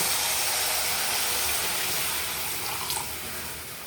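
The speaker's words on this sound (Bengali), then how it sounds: "অ্যাড করে দিচ্ছি পরিমাণ মতো জল।" Water pours from a tap into a cooking spice paste for begun tangra, a steady broad hissing rush that stays loud and close throughout.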